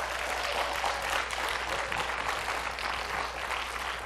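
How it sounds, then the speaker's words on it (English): An audience at a church youth group event breaks into steady, dense applause that stays loud and even throughout, with no voices rising above the clapping. "I just want to give a huge round of applause"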